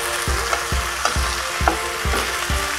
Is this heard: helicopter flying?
no